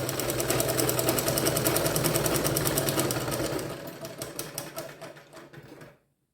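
A tailoring sewing machine stitches a blouse in a fast, continuous rattle of needle strokes, loud and close, then slows and stops with a few final clicks.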